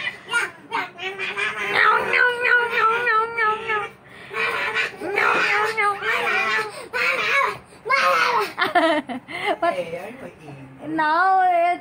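A young child imitates a cat with whiny, wavering meow-like cries, repeated several times amid an adult talking and other child chatter, close and fairly loud.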